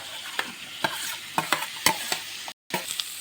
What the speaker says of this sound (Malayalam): ഇനി നമുക്ക് ഇഞ്ചി, വെളുത്തുള്ളി, ക്യാപ്സിക്കം, കറിവേപ്പില, തക്കാളി ഇതെല്ലാം കൂടെ ഇട്ട് കൊടുക്കാം വഴുത്താന്ന്